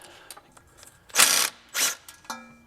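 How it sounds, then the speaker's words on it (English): Mechanical clicks and ratcheting from work on a Honda Ridgeline's ABS wire at the wheel, two louder scraping bursts among faint ticks, close and without talk. "I'm gonna take the ABS wire off"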